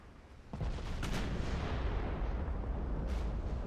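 A torpedo strikes a ship in the naval combat game Ultimate Admiral Dreadnoughts. It lands as a sudden loud boom followed by a sustained low rumble of explosion and gunfire, with a second sharp burst near the end.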